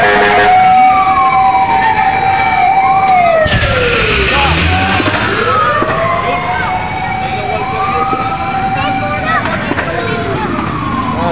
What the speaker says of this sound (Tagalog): Ayan, may dumating ng bumbero.